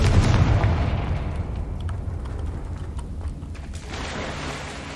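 A Confringo spell detonates in Hogwarts Legacy, opening with a loud, close blast and trailing into a long rumbling decay, then a smaller swell of noise near the end, with no voices.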